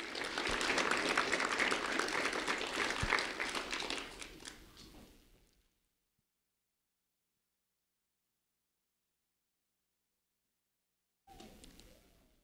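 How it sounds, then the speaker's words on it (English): A round of applause for honoree Trayvon Dixon at a Sheriff's Office recognition event, dense clapping loud for about four seconds, then fading out into silence, with a brief faint rustle near the end. "a round of applause for Trayvon Dixon, please."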